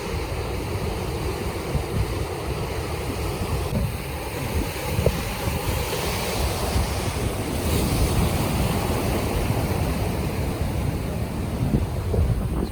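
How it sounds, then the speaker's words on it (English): Roaring surf and heavy wind buffeting the microphone, with waves rolling in continuously and loudly, no voices. "these waves just keep on coming"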